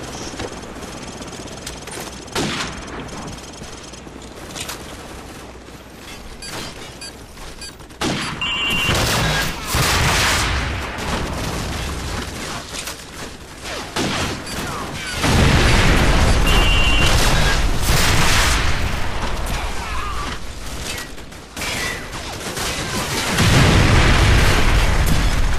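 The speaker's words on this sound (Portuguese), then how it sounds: "eu tô levando tiro" Gunfire and explosions from the PC game Call of Duty 4: Modern Warfare, with dense rattling automatic bursts, sharp shots and heavy booms that grow louder and more intense in the second half of a sustained firefight.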